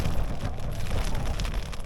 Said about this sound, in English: And now it's started raining.